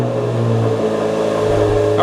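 A Corvette Z06 race-prepped car's engine runs loud and steady at close range, its low rumble rising in a rev toward the end, with voices talking over it.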